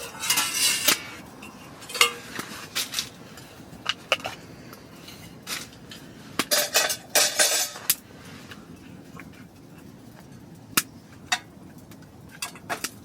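Metal camping utensils clink and clatter against each other and cookware in a series of sharp, irregular bursts with quiet gaps between, close by and heard alone with no talking.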